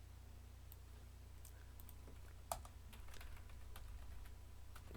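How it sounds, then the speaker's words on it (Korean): Computer keyboard typing sits faintly under a steady low hum, with scattered soft clicks and one sharper tap midway, the keys struck unevenly over a few seconds. "타자를 쳐야 돼."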